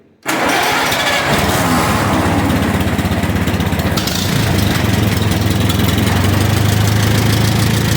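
An Allis Chalmers WD tractor engine, choked, catches almost instantly after a brief silence and keeps running at a loud, steady, close-up chug.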